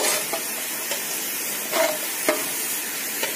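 Chicken browning in a pan for yakhni pulao gives a steady, fairly quiet frying sizzle, with a few faint stirring scrapes across the few seconds and no voices.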